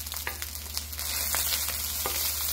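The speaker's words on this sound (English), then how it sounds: "Fry your rice for at least about 5 to 6 minutes." Fried rice with ribeye steak sizzles steadily in a pan, a close hiss under occasional light scrapes and clicks from stirring, with no voices.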